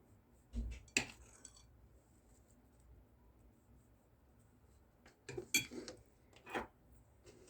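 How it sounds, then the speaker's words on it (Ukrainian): Spoon clinking against a plate while cottage cheese is served for a strawberry dessert, a few faint, sparse scrapes and taps separated by quiet pauses. "Зараз ми беремо тарілочку, накладаємо сюди творог"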